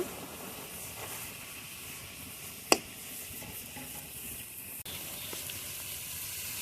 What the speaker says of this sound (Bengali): পানিটা শুকানো পর্যন্ত এটা একটু নাড়িয়ে নেব